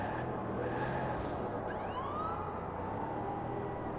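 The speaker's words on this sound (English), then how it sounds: "Oh, they actually have sirens." A video-game security vehicle siren wails with rising and falling tones over a steady low engine rumble, fairly distant and continuous, with no talking.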